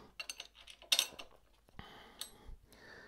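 Titanium fasteners for a quick sprocket carrier on a Ducati Panigale V4 Speciale clink and tap against metal: a few light, bright ticks and one sharper clatter, close and quiet, with no talking.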